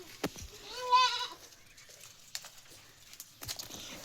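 A milking nanny goat gives a single wavering bleat, fairly close, followed by a few soft knocks and shuffling sounds.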